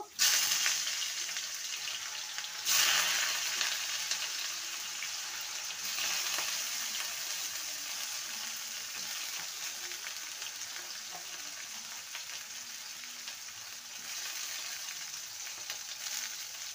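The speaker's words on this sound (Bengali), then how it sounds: "এবার উচ্ছেগুলোকে ভালো করে ভেজে নেব।" Bitter gourd slices fry in oil in a wok, giving a steady, fairly loud sizzling hiss that runs the whole time, with a brief sharper burst early on and occasional stirring clatter.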